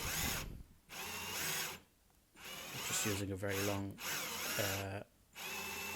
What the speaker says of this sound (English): Then I just drilled the truss rod access while I was there.